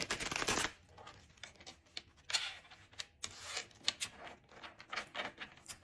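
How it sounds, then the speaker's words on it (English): A deck of cards is shuffled during a card reading, with a burst of riffling followed by soft flicks and taps as the cards are handled, quiet and close. "I need to shuffle again?"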